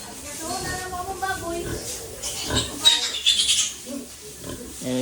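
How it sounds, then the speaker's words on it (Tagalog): Piglets on a farm grunt and squeal in short irregular bursts, close and moderately loud, mixed with someone talking over them. "daghan kay mga baboy diri guys. Mga baktin."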